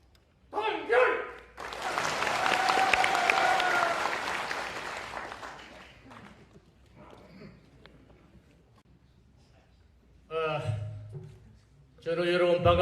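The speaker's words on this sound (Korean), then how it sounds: "우레와 같은 박수를 쳐주십시오" Applause at a Vietnam War veterans' rally and special lecture, with a short burst of clapping, then a loud, sustained round of crowd applause lasting several seconds that fades out, followed by brief speech near the end.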